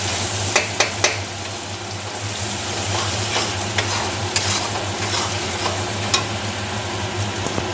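Prawns with salt and turmeric are stirred in a hot pan, with a continuous close sizzle broken by a few sharp taps and scrapes of the spoon.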